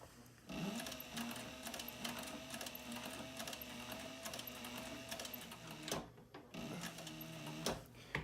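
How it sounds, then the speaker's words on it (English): A sewing machine back-stitches the corners of a dopp kit, a steady close mechanical whir running nearly continuously, with a brief pause partway through before stitching resumes. "I'm going to do a couple back stitches on here. Definitely want to get some good back stitches on these corners"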